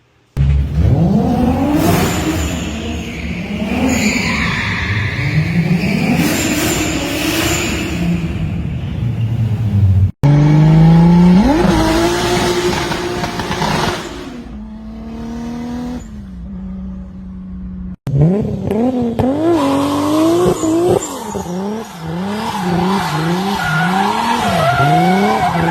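A Nissan S14 drift car with an RB engine revs hard with rising and falling engine pitch while its tires squeal loudly and continuously, across three separate passes.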